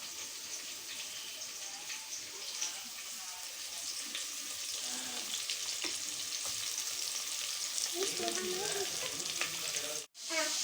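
Plenty of sliced onions frying in a pan for biryani, a steady sizzle with occasional stirring clatter, a brief cut near the end.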